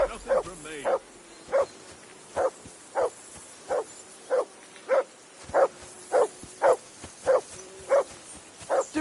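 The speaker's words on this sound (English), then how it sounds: "Call that dog, Henry. Who the hell can listen to that?" Dog in the medieval role-playing game Kingdom Come: Deliverance II barks repeatedly in a regular, evenly spaced rhythm, clear and fairly close, with a voice speaking at the start.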